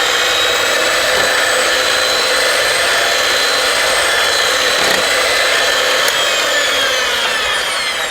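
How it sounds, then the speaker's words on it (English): A hand mixer whirs loudly and continuously close by as it beats a lemon meringue pie filling of flour and salt, a steady motor drone with faint scraping. "I'm going to use a hand mixer on this and be sure this flour doesn't have any lumps in it."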